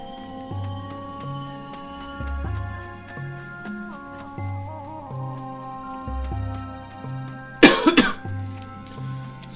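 A single sharp cough bursts out near the end, loud and brief, over the looping in-game music of The Legend of Zelda: Skyward Sword.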